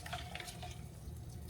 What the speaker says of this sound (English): I just like to stir it at the bottom.